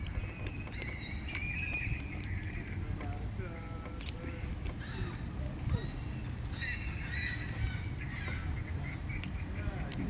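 Geese honking and squawking agitatedly at a moderate distance over steady outdoor background noise, with faint voices murmuring.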